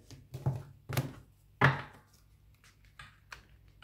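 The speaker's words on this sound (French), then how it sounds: "Je vais couper le jeu." A deck of cards being cut and tapped on a table, a few soft hollow knocks and a sharper slap in the middle, close and sparse with quiet gaps between them.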